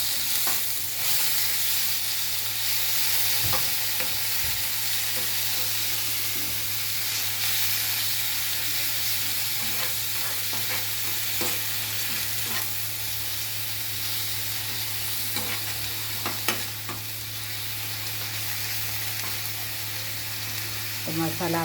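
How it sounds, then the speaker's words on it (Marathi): Masala spices sizzle steadily in hot oil in a village-style kitchen while being stirred, a continuous close frying hiss with occasional scrapes and clicks of the spoon, and no talking. "तेलामध्ये आता मी मसाला टाकला."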